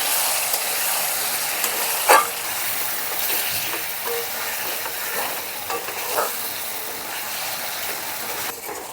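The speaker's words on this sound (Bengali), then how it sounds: "এখন দিয়ে দিচ্ছি টমেটো পেস্ট" Tomato paste goes into potatoes frying in a spiced pan for shol fish curry, giving a steady, close sizzle with occasional stirring scrapes and clinks, and no talking.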